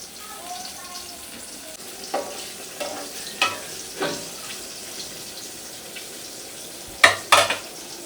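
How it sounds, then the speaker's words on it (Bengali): Eggplant fries in a pan in a home kitchen, giving a soft, steady sizzle broken by several sharp clinks and scrapes of a utensil, with two louder clatters near the end. "বেগুন ভাজা হচ্ছে।"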